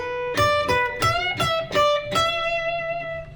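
A picked electric guitar plays a short lick from a song, with a string bend, several quick plucked notes and the last note ringing out, close and clear with no talking.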